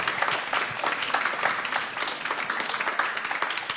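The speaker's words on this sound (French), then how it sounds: "Et on peut applaudir Hugo, notre ambassadeur Erasmus." An audience applauds with dense, steady clapping throughout, moderately loud and fairly close, with no talking over it.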